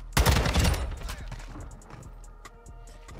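TAQ 56 rifle fire in Modern Warfare II, a loud rapid burst up close that fades into scattered lighter shots and game noise.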